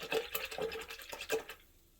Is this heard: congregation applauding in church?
no